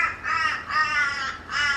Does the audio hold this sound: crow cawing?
yes